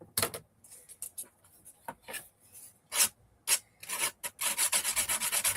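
Sandpaper rasps against a wood edge by hand in short, irregular strokes, building into a fast run of quick rubbing scrapes at the end, close and clear.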